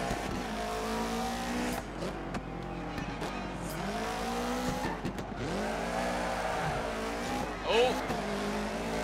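Subaru rally car in the Dirt 3 racing game, engine revving up and down through gear changes with tire squeal and skidding on corners, steady and close, with someone speaking over it.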